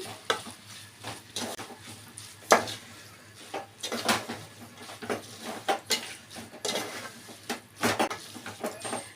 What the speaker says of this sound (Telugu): ఉప్పు వేసుకొని బాగా కలుపుకోవాలి